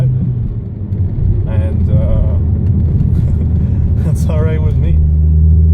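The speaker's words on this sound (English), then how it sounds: "It doesn't sound like a typical Jetta." A Volkswagen Jetta's engine rumbles low and steady from inside the car while driving, with someone talking over it and a brief rise in engine tone near the end.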